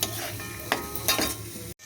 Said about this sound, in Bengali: এবার আমি চিনিটাকে ভালো করে আমের সাথে মিশিয়ে দেবো।